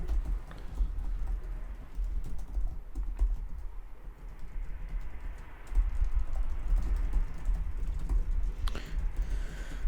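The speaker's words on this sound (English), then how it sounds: "I'm also typing." Fingers type on a computer keyboard in a steady stream of soft, rapid clicks and taps for about ten seconds, close to the microphone, with no talk.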